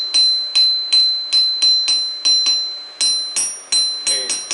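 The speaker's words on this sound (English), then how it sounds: "give it a strike test, and you're listening for a good return ring" A forged steel taper is struck with a hammer again and again, each blow ringing out bright and bell-like and then decaying, about a dozen strikes in an uneven rhythm, loud and close, with no talking.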